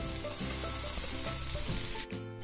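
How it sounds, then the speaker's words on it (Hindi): Tomatoes frying in hot oil for a chicken peanut salad, a loud continuous sizzle with light stirring, close up and without voices. "टमाटर को आपने ज़्यादा देर फ्राई नहीं करना है"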